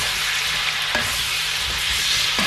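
Beef ox cheek stir fry with red and green pepper sizzles steadily in a hot pan, a dense continuous frying hiss with faint stirring clicks. No talking.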